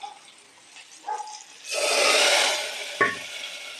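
Chilli, shallots and curry leaves hitting hot oil for tempering brinjal kootu, a sudden loud close sizzle bursting up after quiet scraping, hissing for about two seconds before easing, with a sharp clink.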